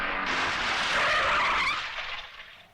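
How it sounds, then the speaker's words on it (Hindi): A car skids hard to a stop, a long loud tire screech that swells, holds, then fades out over a few seconds, with no voices over it. "गाड़ी की रुकवा दी।"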